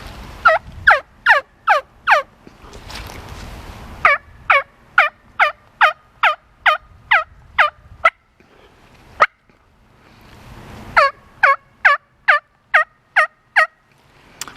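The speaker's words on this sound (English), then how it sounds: "gobbler yelp" Wild turkey gobbler calls in repeated bursts of sharp, rising-and-falling yelps, roughly six to eight per run, strong and fairly close, with short gaps and brief low rustling between runs; no talking.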